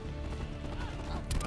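Hooves clip-clopping from horses in a Black Ops 4 video game match, a steady rhythmic trot with a faint whinny, heard at moderate level with game sounds in the background.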